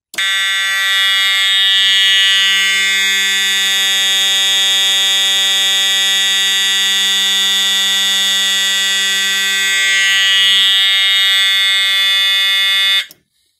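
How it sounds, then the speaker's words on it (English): A fire alarm system set up for a workbench test goes into alarm, sounding a loud, steady electronic tone that holds unbroken for about thirteen seconds and then cuts off abruptly. "Just going to flip the switch up, and it's going to go into alarm."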